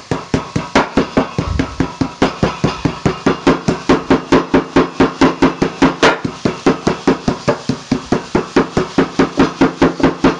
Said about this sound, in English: have a meat tenderising hammer, bash it out